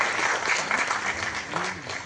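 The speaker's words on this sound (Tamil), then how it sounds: "மேடையில் இருக்கும் எங்கள் இமயம், எங்களோட காட்ஃபாதர் பாக்கியராஜ் சாருக்கு பலத்த கரகோஷம் கொடுங்க சார்" An audience at a Tamil film audio and trailer launch claps steadily for a guest on stage, a dense, loud wash of applause from a large crowd with faint voices mixed in.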